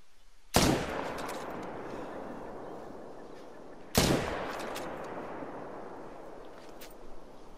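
.300 magnum rifle shots in a hunting video game, two sharp, loud cracks about three and a half seconds apart, each followed by a long decaying rumble and echo, with no speech.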